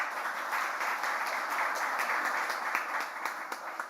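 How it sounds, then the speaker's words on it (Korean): An audience applauding at a forum launch ceremony, dense sustained clapping from many hands that holds steady throughout. "여러분 뜨거운 박수 부탁드립니다."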